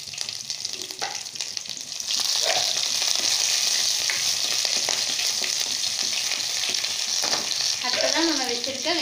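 Green chillies and curry leaves hitting hot oil already holding mustard seeds and chana dal for a radish and egg poriyal; a moderate sizzle surges louder after about two seconds and stays steady and close, with faint tones near the end.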